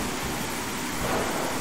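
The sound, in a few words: thunderstorm in video game Gas Station Simulator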